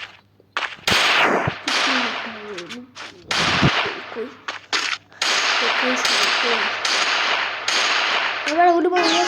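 A gun in the video game Free Fire fires in sharp, loud cracks, with several bursts and single shots separated by brief silences, and a voice speaks between the shots.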